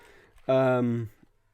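A house cat meows once, loud and drawn out for about half a second, close to the microphone in an otherwise quiet room.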